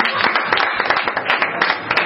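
An audience at the closing ceremony of a cartoon festival claps steadily, a dense, close burst of many hands with fast irregular rhythm throughout.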